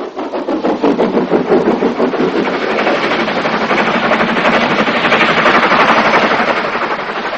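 An Adams radial tank steam locomotive running on a heritage railway gives a loud, rapid, rhythmic chuffing close by. The beat holds steady and then swells slightly as the train keeps moving, and no one speaks.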